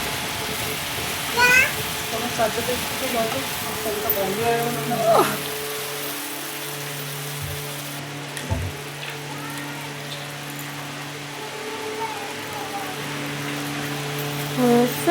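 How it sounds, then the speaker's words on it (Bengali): Taro stolons with spices, salt, turmeric and a little water stir-frying in a pan give a steady, close, rain-like sizzle and crackle for the whole stretch, with faint voices and low tones underneath. "এবার এটাকে ভালো করে নেড়ে চেড়ে ভাজতে হবে"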